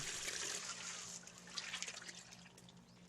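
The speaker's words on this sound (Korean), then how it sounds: "콩을 물에 깨끗이 씻으면서 이물질과 썩은 콩을 다시 한번 골라내고 거품이 나지 않을 때까지 충분히 비벼 닦아주는 것이 좋다" Soybeans are rubbed and washed by hand in water, giving soft sloshing, trickling and dripping sounds, faint and close with no talk.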